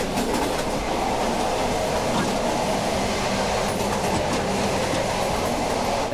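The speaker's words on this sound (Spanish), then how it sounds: "con todo el traqueteo del tren" A third-class train carriage rattles and clatters loudly and continuously at the passage between coaches, with rhythmic clicking of wheels on track and a heavy rumbling drone.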